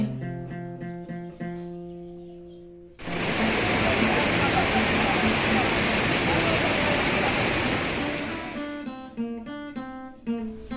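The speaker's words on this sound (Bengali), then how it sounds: "আমরা চলে এসেছি একদম ঝর্ণার সামনে। কত উঁচু থেকে জল পড়ছে।" A waterfall at Futiyari Dam in Purulia roars as a loud, dense rush of falling water for several seconds, with music playing before and after it.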